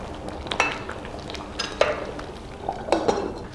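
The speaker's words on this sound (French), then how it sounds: "On va tourner un tout petit peu jusqu'à ce que la pâte d'arachide soit assez émiettée" Peanut paste being stirred and broken up in a cooking pot, with scattered utensil scrapes and light clinks against the metal over a low background of cooking noise.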